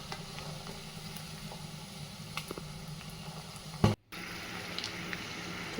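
Chicken pieces deep frying in oil for pickle, a quiet steady bubbling sizzle with scattered small pops, briefly broken by a short thump and a gap of silence.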